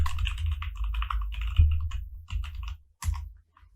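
An email address is typed on a computer keyboard to log in: close, crisp keystrokes in quick irregular bursts, broken by short pauses and a final firm tap.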